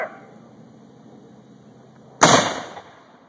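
A historic cannon at London Town fires a blank charge: one sudden loud, sharp blast after a quiet stretch, with a rumbling tail fading over the next half second.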